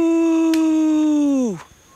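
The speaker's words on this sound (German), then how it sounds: "Ich hörte, wie ein Hund heulte." A single dog howl, long and tonal, holds a steady pitch before sliding downward and fading out, close and clear.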